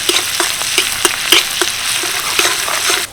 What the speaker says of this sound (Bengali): দেড় চামচ রসুন কুচি দিয়ে দিচ্ছি হাফ চামচ গ্রেট করা আদা হালকা একটু নেড়ে চেড়ে ভেজে নেব